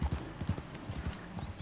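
Horse hooves clip-clop in a steady rhythm in Red Dead Redemption 2 gameplay, faint and low under a soft background, with a whinny hinted at.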